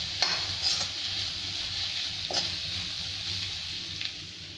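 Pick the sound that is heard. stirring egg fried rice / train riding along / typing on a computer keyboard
stirring egg fried rice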